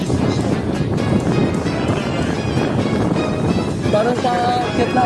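Strong headwind buffets the microphone during a mountain bike ride, a loud, steady rushing roar filling the whole clip with gusty low rumble.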